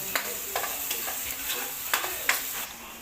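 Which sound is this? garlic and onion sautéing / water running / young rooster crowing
garlic and onion sautéing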